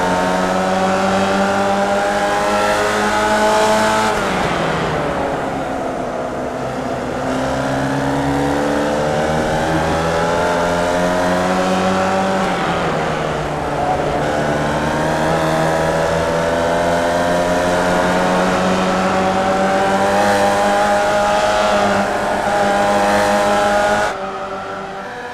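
A roadster race car's engine heard from onboard during a race, loud and close, revs climbing through the gears with sharp drops at shifts, then pulling steadily on throttle for a long stretch.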